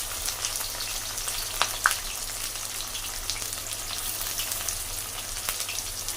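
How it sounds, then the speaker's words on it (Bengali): Onions and bay leaves dropped into hot oil give a steady close sizzle, a few louder crackles and pops rising briefly over the continuous hiss, with no voices. "আগে পেঁয়াজটা দিয়ে নিচ্ছি"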